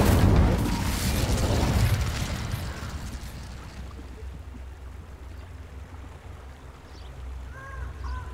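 Incendio fire spell cast in Hogwarts Legacy: a loud, broad whooshing burst of flame that slowly dies down into a low, steady rumble.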